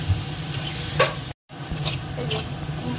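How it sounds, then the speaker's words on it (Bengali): Steady sizzle and hiss as water is poured into spice masala frying with sugar for a potato and pointed gourd dish, with a brief dropout midway before the frying hiss resumes, close and even. "একটু জল দিয়ে দিচ্ছি"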